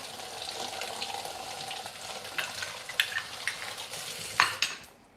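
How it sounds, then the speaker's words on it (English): Falafel frying in hot oil, a continuous bright sizzle with scattered pops and a few clinks of utensils or a pan, fairly close and with no talk. "We're gonna be right about frying time, falafel eating time."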